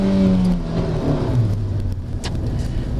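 A Nissan Spec V engine revs up and drops back, its rising and falling tones loud and close, with no talk.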